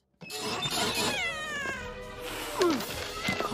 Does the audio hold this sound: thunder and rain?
no